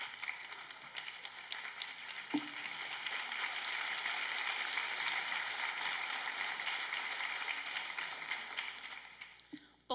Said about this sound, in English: One more applause for Mia.